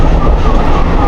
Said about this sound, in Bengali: ফাইনালি ট্রেনে উঠলাম